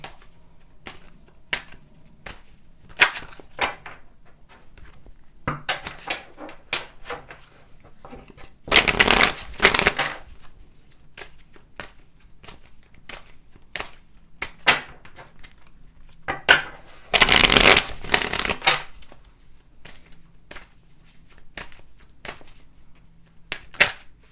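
Tarot cards shuffled by hand during a Cancer reading, papery riffles and taps scattered across the clip with two loud, dense bursts of bridging shuffles, close and alone without talk.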